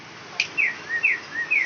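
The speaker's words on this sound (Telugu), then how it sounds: "ఏంటంటే ఇది కూడా సౌండ్ సెన్సింగ్ బర్డ్." A sound-sensing toy bird answers with a short series of bright electronic chirps, four or five rising-falling tweets in quick succession after a brief click, close and clear.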